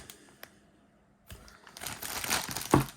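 Plastic wrapping around a boxed Dragon Ball figure crinkles loudly and close after a quiet start, building into dense rustling as it is pulled open.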